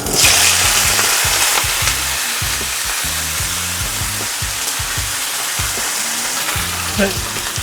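Chuck steak sears in avocado oil in a smoking hot pan, crackling with a loud, dense sizzle that starts strong and stays steady, with a low rhythmic tapping underneath.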